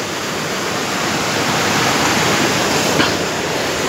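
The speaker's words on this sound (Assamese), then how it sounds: "চাওক আপোনালোকে চব কিমান জোৰে মানে পানীটো যাই আছে" A large monsoon-swollen river rushes strongly beneath a 900-metre bridge, producing a steady, loud, unbroken roar of water with no voices.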